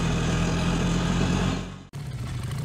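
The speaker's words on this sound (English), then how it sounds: "auto rickshaw," An auto rickshaw engine runs steadily at close range with a continuous mechanical drone, briefly cutting out and then resuming, with no voices present.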